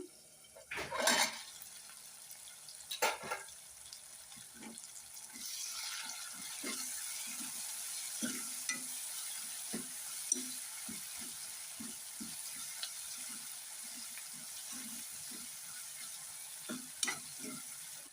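Onions cooking in a pan for a tomato curry, a soft steady sizzle with a spoon scraping and stirring in regular strokes, a few louder knocks against the pan near the start.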